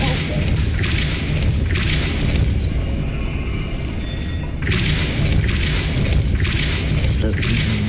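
Depulso repulsion spell cast in Hogwarts Legacy, a loud booming blast with thudding impacts and bursts repeating over dense game noise, with a voice speaking alongside.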